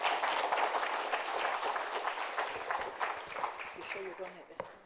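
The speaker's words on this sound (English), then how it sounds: "Please give her a warm round of applause." Audience applause at a live-streamed event for a national student financial aid scheme, a dense, steady wash of many hands clapping that fills the room and slowly thins toward the end.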